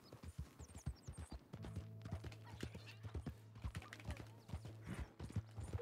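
Horse hooves clip-clop at a rapid, galloping rhythm in the video game Red Dead Redemption 2. The close, repeated thuds play over a low steady hum, with faint soft sounds around them.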